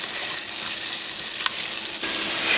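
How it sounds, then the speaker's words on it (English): Onions sweating in achiote oil for Puerto Rican stewed chicken give off a steady, bright sizzle that stays close and even throughout, without any voices. "Now we're going to start adding our ingredients to the achote oil. First goes in our onions."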